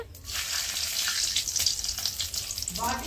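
Cumin seeds and bay leaf sizzle and crackle steadily in hot oil, a bright continuous frying hiss with no talk.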